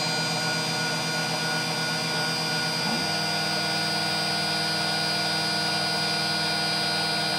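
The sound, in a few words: precision drill/mill/engraver machine engraving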